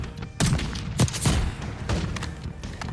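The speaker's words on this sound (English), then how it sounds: "Under heavy fire!" Heavy gunfire in Call of Duty Black Ops 6, with several loud, close shots and thuds cutting through a dense, noisy battle background.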